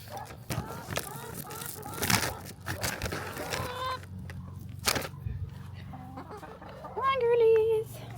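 Backyard hens clucking and squawking while being fed sunflower hearts, several close birds giving short bursts and a rising call near the end, mixed with someone talking softly over a low background hum.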